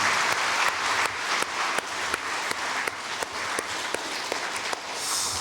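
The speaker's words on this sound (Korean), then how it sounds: "우리 힘차게 하나님 앞에 영광의 박수 올려드립니다" A church congregation claps steadily during a Sunday worship service, a dense roomful of hands with a few sharper claps standing out, the applause sustained and even throughout.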